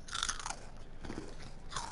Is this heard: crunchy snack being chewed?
yes